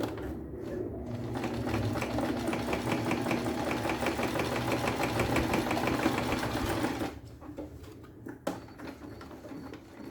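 A sewing machine runs in a fast, steady stitching rattle for about seven seconds while sewing a beach bag, then stops, leaving quiet handling clicks and a sharp tap; no one speaks.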